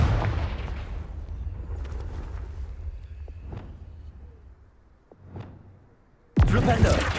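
Confringo, an explosive spell cast in the Hogwarts Legacy video game, lands as a couple of sharp, moderate thuds over a rumbling backdrop. A sudden loud, full blast then closes the sequence.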